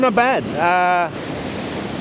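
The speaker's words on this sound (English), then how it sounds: "standing right in the way of the waves" Ocean waves break at Moffat Beach, where the person recording stands right in the path of the water. A person speaks briefly over wind at first, then a loud, broad rush of surf washes in close by.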